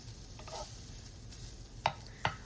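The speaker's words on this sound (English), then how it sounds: "And then finish cooking off your breakfast sausage." Breakfast sausage sizzling in a frying pan, a low steady fry hiss with faint stirring and two sharp utensil clicks near the end, no talking.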